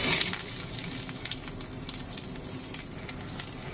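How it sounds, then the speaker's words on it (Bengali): Chopped onions frying in hot oil with nigella seeds in a wok make a continuous close sizzle with faint crackles and a brief louder hiss as they hit the oil at the start. "এবার দিয়ে দিচ্ছি আগে থেকে কেটে রাখা পেঁয়াজ"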